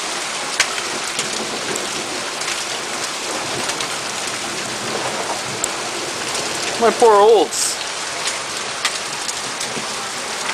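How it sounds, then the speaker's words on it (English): Heavy thunderstorm rain and hail pound down around an Oldsmobile in a steady, loud hiss of impacts, with a brief burst of nearby talking partway through. "Wow, I can actually hear the rain."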